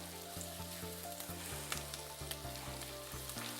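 Three teaspoons of chopped garlic sizzle steadily in a hot pan, a soft continuous frying hiss with light stirring, faint and close, while background music plays.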